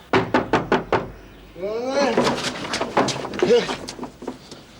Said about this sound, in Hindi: दरवाजा खटखटाया